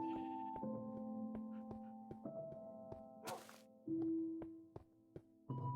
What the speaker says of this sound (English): There's all my rainbow sheep and more llamas there as well.